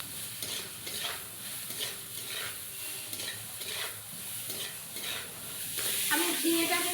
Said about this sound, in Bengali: অল্প পরিমাণ লবণ আর অল্প হলুদ দিয়ে একটু ভালোভাবে ভেজে নেব।